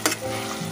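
Mutton pieces frying in hot oil for a mutton curry, a steady close sizzle with a brief louder burst of spatter near the start and no talking.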